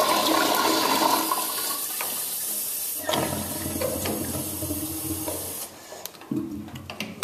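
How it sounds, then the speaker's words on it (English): A household toilet flushing up close, a loud rushing gush of water followed by swirling refill and gurgling as the tank drains and the bowl empties. "this is what the flush normally looks like"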